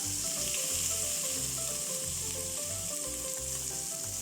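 Butter sizzles and fries steadily in a hot pan over low heat while it renders into homemade desi ghee, a continuous close crackle with no talk.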